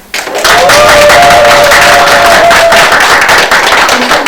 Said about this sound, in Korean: 박수를 받으니까